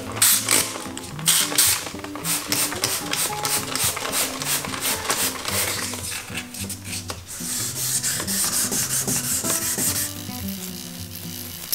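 Steady rhythmic wet sanding of a plastic headlight lens on a 2005 Mazdaspeed Miata, fast repeated back-and-forth strokes, close and continuous for the whole stretch.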